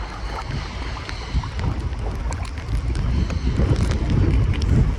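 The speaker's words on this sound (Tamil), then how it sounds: "காற்று சவுண்டு இதுதான் சூப்பராக இருக்குது." Steady roaring wind from Cyclone Michaung in Chennai buffets the microphone, a broad rushing noise that swells slightly toward the end, with no voices.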